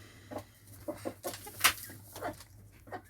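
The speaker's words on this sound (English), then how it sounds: "Bird." A farmyard bird, probably a chicken, gives a few short clucking calls at moderate distance, with one sharp, brighter call near the middle over a low steady hum.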